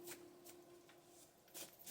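A tarot card deck is shuffled softly and close by, with a few quick riffling bursts in an otherwise quiet room.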